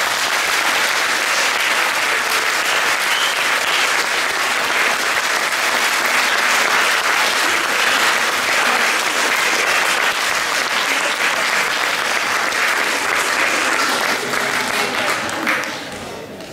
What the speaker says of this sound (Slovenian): tako da predlagam, da nam še en aplavz